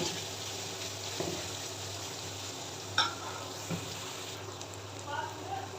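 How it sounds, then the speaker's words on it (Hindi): Medium-sized cut onions fry lightly in a pan with a faint, steady sizzle, broken by a few soft stirring clinks, while someone talks over it. "अभी हम प्याज को हल्का सा फ्राई करेंगे"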